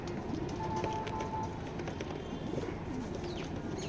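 Racing pigeons in a loft give soft repeated coos, heard at a modest distance over a low background murmur with a few faint chirps.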